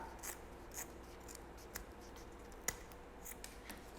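Scissors snip through fabric for a small Easter bunny travel case, a handful of faint, sparse clicks and cuts at close range in a quiet room.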